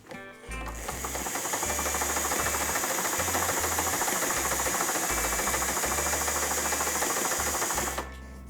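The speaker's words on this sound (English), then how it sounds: "we're gonna sew those two pieces together" Electric sewing machine stitching two quilt pieces together for a pinwheel quilt block, a steady close, loud mechanical whir with rapid needle chatter running continuously for about seven seconds before stopping.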